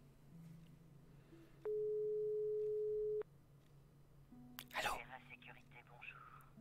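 A single steady telephone tone sounds for about a second and a half in the video game Broken Sword 5, followed by a faint click and soft murmuring voices.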